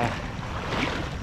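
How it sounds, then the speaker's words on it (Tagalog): Constant blustery wind rushing over the microphone with surf-like noise beneath, a dense broadband roar throughout. "Malakas talaga ang hangin,"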